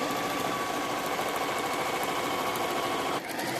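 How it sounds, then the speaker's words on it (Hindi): A sewing machine runs steadily, stitching a straight seam with blue thread along the centre of salwar cuff fabric, a continuous close whirring drone that briefly dips near the end. "अब मैं इस पे ब्लू से सीधी सिलाई लगाऊंगी, इसी के सेंटर पे बिल्कुल सीधी सिलाई लगाऊंगी इस तरह से।"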